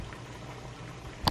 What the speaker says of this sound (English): And now we wait for the pot to boil.